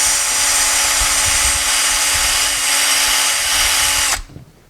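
A power drill bit boring into a brake part on a 1973 Ford F100 truck, a loud, steady high whine running continuously for about four seconds before cutting off abruptly.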